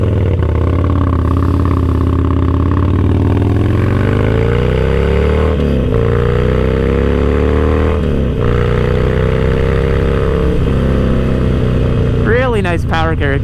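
Harley-Davidson Roadster 1200 V-twin running through a Vance and Hines full exhaust, a deep lumpy rumble rising and falling with throttle, close and loud, with a voice talking over it.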